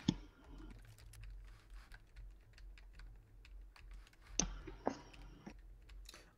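Someone taps away at a computer keyboard during a co-op game session, quiet close keystrokes in irregular bursts with a denser cluster of clacks near the end.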